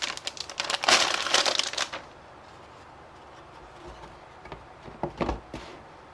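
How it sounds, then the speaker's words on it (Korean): An anti-static plastic bag holding an ASUS TUF Gaming B760M-PLUS II motherboard crinkles loudly up close in a burst of rustling for about two seconds, then quieter handling and a couple of brief crinkles later. "정전기 방지 비닐 안에 들어있는 ASUS 터프 게이밍 B760M 플러스2 코인 메인보드를 꺼내보겠습니다"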